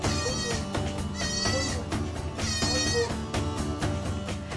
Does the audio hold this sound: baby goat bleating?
yes